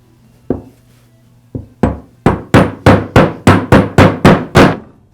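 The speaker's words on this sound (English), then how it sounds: "I've tapped both sides of the crankcase housings close enough together" Two crankcase halves of an Echo string trimmer are tapped together with a new gasket. Two sparse knocks lead into a steady run of about nine sharp, close, loud taps, each ringing briefly.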